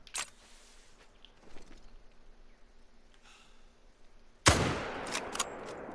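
Single loud rifle shot fired at a whitetail buck from a hunting position, a sudden sharp crack after quiet with a short rumbling echo trailing off.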